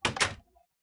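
A wooden door opening in a Minecraft-style block-building video game, a single short creaking thunk that fades within half a second, heard alone.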